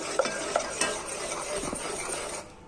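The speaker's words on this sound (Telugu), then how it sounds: "ఇదిగోండి వేసేసి ఒకసారి కలపాలి" Laddu ingredients are mixed in a bowl, a continuous close scraping, rustling stir with a few light clinks of the utensil against the bowl, no voices.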